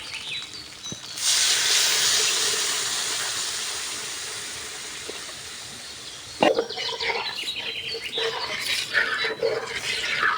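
Water poured into a hot pan of tilapia and taro bursts into a loud, broad hiss that slowly fades, followed by renewed bubbling, crackling sizzle up close, with no talking.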